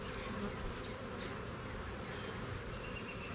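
Bees buzz in and around a hive box, a dense continuous drone of many insects, close and steady throughout, with no talk.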